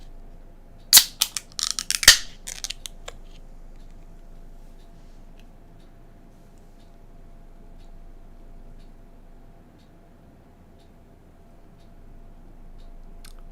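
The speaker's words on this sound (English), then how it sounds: "so we'll just crack this can." A can of Dragon's Milk Triple Mash strong ale is cracked open up close, a quick cluster of sharp clicks and a pop over about two seconds, followed by quiet room tone.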